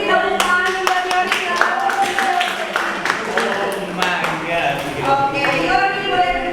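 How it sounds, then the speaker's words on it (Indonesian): A classroom audience claps for a student named Yori with a burst of quick, uneven hand claps, sitting under a speaking voice throughout. "tepuk tangan buat Yori."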